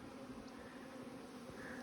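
Honey bees drone steadily in a bee yard around stacked tower-style splits during a honey harvest, a continuous close buzz with no break.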